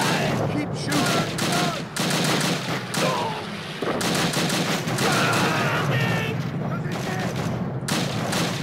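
Gunfire in the video game Call of Duty, a dense, loud fusillade of rifle and machine-gun bursts that barely lets up, with shouted voices mixed into the battle.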